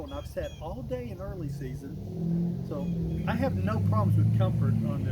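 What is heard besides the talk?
road traffic noise near hunting spot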